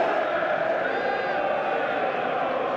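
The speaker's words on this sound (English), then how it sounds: "The cheer from Newcastle supporters in the corner." Newcastle supporters in a stadium corner during a Premier League match against Brentford, a continuous loud crowd roar of cheering that holds steady without breaks.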